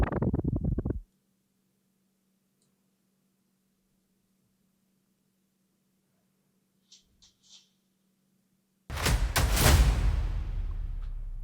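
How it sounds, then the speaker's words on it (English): Cinematic intro impact effects layered in editing: a loud whooshing hit cuts off abruptly, a long faint low hum holds through near silence with a few soft ticks, then a second booming impact lands and decays into a noisy rumble. "Those are the two sound effects, or the two impacts for the layer 2."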